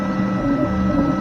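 A 3D printer runs steadily, its stepper motors giving off sustained whirring, tonal warbling tones over about a second, close and fairly loud with no talk.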